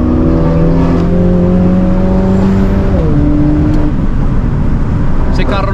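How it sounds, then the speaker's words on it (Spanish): A loud car engine roars close by with shifting pitch as it revs and changes gear, mixed with road noise and a voice speaking over it. "Ese carro suena muy duro"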